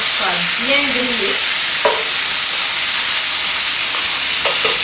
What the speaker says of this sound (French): on va essayer de dorer tous les côtés jusqu'à ce que ça soit bien grillé